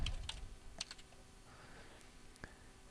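Keys on a computer keyboard are tapped quietly up close in a few quick, scattered clicks, and the clip then settles into near silence with one last faint keystroke.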